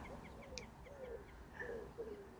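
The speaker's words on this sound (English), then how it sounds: "There's a bird." Outdoors beside a river, a bird gives a few soft, low cooing calls a short distance away, with faint high chirps mixed in over a quiet background.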